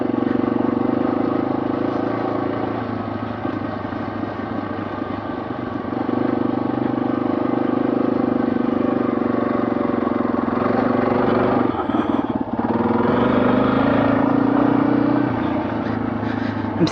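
Motorcycle engine running steadily and loud throughout an off-road adventure ride, a continuous droning rumble with slight shifts in pitch and a brief dip near the end, no talking.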